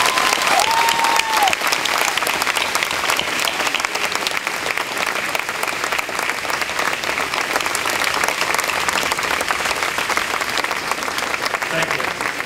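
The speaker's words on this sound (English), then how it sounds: "Please, class of 2007, rise and join me in giving them a round of well-deserved applause." A commencement audience for the class of 2007 breaks into sustained, dense applause that fills a large hall, steady and loud throughout with faint crowd voices mixed underneath.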